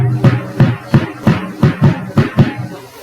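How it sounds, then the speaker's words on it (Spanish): Cuban cinquillo rhythm on percussion, about nine evenly spaced, close, punchy hits with low thuds and bright attacks, rolling steadily for a few seconds without any talking. "ese es el cinquillo cubano."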